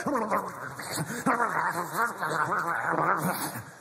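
A man imitates a dog with a run of yelping, whining bark-like vocal sounds, close and loud, rising and falling in quick bursts.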